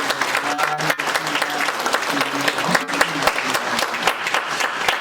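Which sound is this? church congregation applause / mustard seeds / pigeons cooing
church congregation applause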